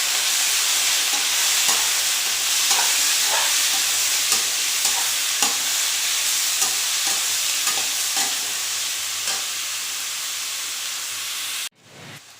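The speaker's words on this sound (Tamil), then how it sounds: "2 தக்காளி, கொஞ்சம் மல்லித்தூள் போட்டு வதக்கிக்கணும்." Tomatoes with coriander powder sautéing in a pan for a home-style chicken gravy, a steady loud sizzle with repeated soft scrape-and-stir strokes, ending abruptly in near silence.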